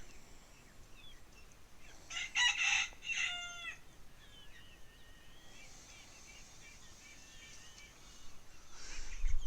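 Chickens with young chicks in a homestead coop's undergrowth area, a rooster crowing loudly in short bursts among softer clucking and high cheeping, then a rising rustle at the end.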